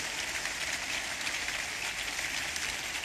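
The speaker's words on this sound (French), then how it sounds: "Donnez à l'Éternel la plus grosse offrande d'acclamation." A church congregation gives sustained applause, a dense, even wash of clapping from many hands that holds steady at full volume with no break for the whole stretch.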